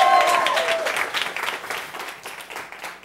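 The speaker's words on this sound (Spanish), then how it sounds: "Un aplauso para Yamarí." A TV studio audience breaks into loud, close applause, a dense crowd clapping that stays strong and then slowly thins out, with a short tone audible at the very start.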